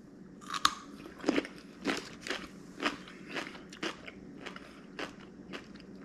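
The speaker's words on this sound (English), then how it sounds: "It's a nice crunchy dill pickle." Someone bites into a crunchy dill pickle, then chews it in a series of about ten wet, crisp crunches spaced roughly half a second apart, close up and loud with no talking.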